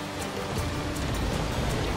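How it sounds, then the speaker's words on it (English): Dense, steady rainfall in the video game The Flame in the Flood, hissing evenly, a continuous wash of drops with no voices. "And of course, it starts raining"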